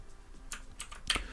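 Typing on a computer keyboard while working in Emacs: three or four quiet, separate keystrokes tapped in about a second, near and clear with no talk over them.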